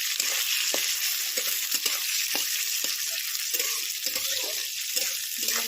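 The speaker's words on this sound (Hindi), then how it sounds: "पियाज को भाजीदवा पियाज भल भाव हो" Onions fry in a pan for a chicken curry, giving a continuous bright sizzle with scattered crackles and occasional stirring scrapes, close and steady throughout, with no talking.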